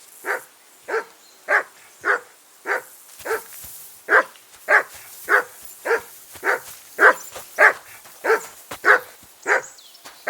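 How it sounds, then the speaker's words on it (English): A dog barks repeatedly in the video game Kingdom Come: Deliverance II, steady loud barks at roughly half-second intervals running on without pause, with no voices over them. "That barking was a pain in the ass."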